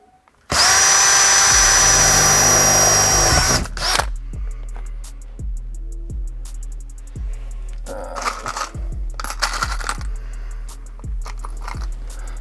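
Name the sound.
drilling pilot holes to mount a plate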